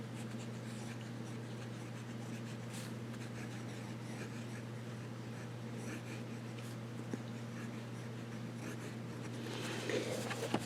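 A Monteverde Impressa fountain pen with a fine nib scratches softly across paper in short, faint strokes over a steady low electrical hum, growing slightly busier toward the end.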